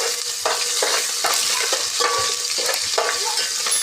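Sliced onions and green chillies frying in hot oil for chicken pulao, a steady bright sizzle with short stirring scrapes recurring every half second or so, close and fairly loud, with no talking.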